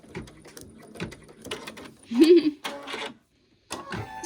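An embroidery machine stitches over a sheet of Mylar in quick, repetitive mechanical clatter with short bursts and pauses, close and moderately loud, with a brief silence near the end.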